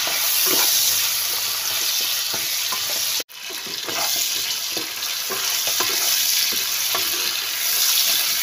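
Potatoes fry with salt and turmeric in hot oil, a steady close sizzle broken by stirring scrapes and one brief dropout midway.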